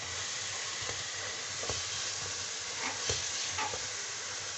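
Apple halwa cooks in ghee in a pan, with a constant soft sizzle and a few quiet scrapes from stirring now and then. No one speaks.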